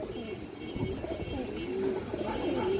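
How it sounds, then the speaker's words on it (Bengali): Pigeons coo repeatedly in low, rolling phrases, fairly close, over a steady background murmur. "অনেক বড় কবুতর এই যে দেখেন অনেক বড় সাথের কবুতর"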